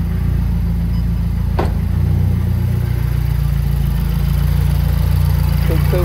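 A Mazdaspeed 3 engine idles just after starting, a steady close rumble holding level throughout, with one brief clatter partway through and no talk.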